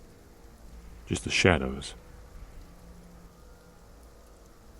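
Steady light rain falls throughout, soft and continuous in the background, while a voice narrates briefly over it.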